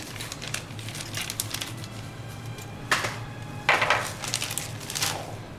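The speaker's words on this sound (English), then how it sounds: "Here we open this last bag." A plastic bag of parts for a 1:1000 scale Klingon battle cruiser model kit is opened close by, giving brief crinkling rustles and a few louder crackling bursts with pauses between them.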